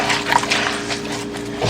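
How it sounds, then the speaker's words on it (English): Water is poured out and dishes are rinsed after scrubbing with a Scrub Daddy sponge, producing a steady running-water hiss with brief splashy bursts and a faint tonal hum underneath. "I'm going to pour this out and rinse these dishes."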